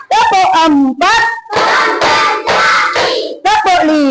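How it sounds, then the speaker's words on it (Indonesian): Children in a second-grade classroom clap their hands in short rhythmic bursts, led by a teacher's chanted count; the claps come in near, loud groups mixed with her voice. "Ayo sekarang kasih tepuk tangan biar tambah semangat."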